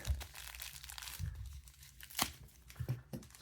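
Packaging for an SKMEI quartz watch on a steel bracelet is torn and crinkled open up close, giving a continuous rustling of paper and plastic with a few sharper rips.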